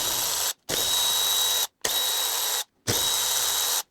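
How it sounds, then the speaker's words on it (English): Power driver removing four torx screws from an engine housing during an N43 engine teardown, three loud whirring bursts separated by short pauses, close by. "Next, I have to remove the 4 torque screws."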